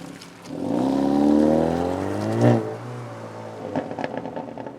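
A car engine drones steadily in the rain, swelling and easing as the vehicle drives past, with a brief louder surge midway and some rattling hiss toward the end.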